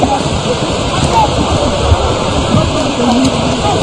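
Steady heavy rain pours over an outdoor football pitch during a youth international match, a loud continuous hiss filling the whole stretch, with live commentary talking over it.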